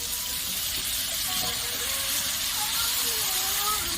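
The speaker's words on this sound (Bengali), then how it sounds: "এটা আমি সামান্য জল দিয়ে দিলাম" A small amount of water pours into a pan of prawn and potato posto curry, a steady soft hiss of liquid running throughout, fairly close.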